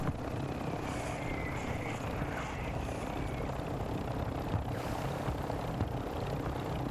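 A helicopter in the video game Warzone 2 thrums continuously at low volume, with a faint rotor rumble and airy whine, steady throughout with small brief bumps.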